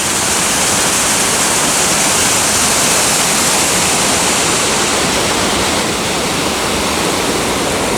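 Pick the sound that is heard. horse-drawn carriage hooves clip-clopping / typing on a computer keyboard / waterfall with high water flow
waterfall with high water flow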